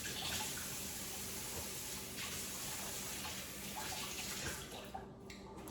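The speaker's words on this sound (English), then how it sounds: "Wash my hands." Hands are washed under a running kitchen tap, a steady close rush of water splashing into a sink that runs without a break and thins out at the end.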